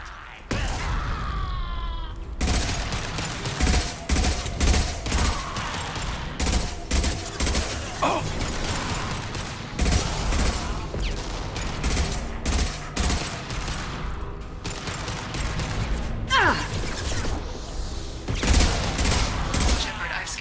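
Heavy weapon fire in Mass Effect 2 pounds through a combat scene as dense, repeated loud shots and bursts with only brief gaps, accompanied by groans and shouts.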